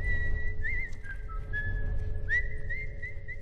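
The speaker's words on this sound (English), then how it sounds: "How do you do that? What, whistle?" A video game character whistles a short, wandering tune in The Last of Us: Left Behind, clear and fairly near over a low background rumble, with no talk.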